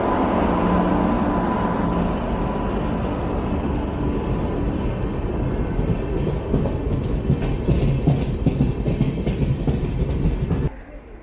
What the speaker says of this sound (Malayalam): അപ്പോഴേക്കും ഇതാ കാച്ചിഗുഡ മാംഗ്ലൂർ എക്സ്പ്രസ് സൂപ്പർഫാസ്റ്റ് കയറി വരികയാണ്.